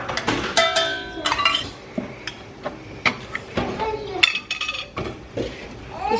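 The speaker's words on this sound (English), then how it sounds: "now we're gonna throw in the sliced olives" Sliced olives tossed into a bowl of rotini pasta, producing scattered light clinks and taps against the bowl with a utensil, close and intermittent, with a voice speaking between them.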